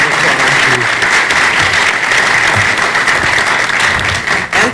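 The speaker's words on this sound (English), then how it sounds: "So give Mark, my friend, another round of applause." Sustained audience applause at a town hall conversation on race, a loud, full-room wash of clapping with no pause across nearly five seconds.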